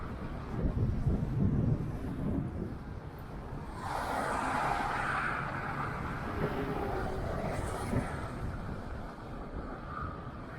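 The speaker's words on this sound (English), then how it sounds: "It's kind of windy too." Steady wind buffeting the microphone while riding an Inokim Oxo electric scooter across a bridge in New Westminster, a low rumbling roar that swells and eases throughout, with no clear voices.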